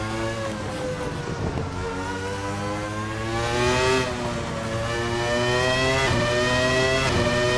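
A Formula 1 car engine in a video game at Spa, held on steady throttle with a sustained high-pitched harmonic whine that rises and falls slightly as revs shift, loud and continuous with no talking.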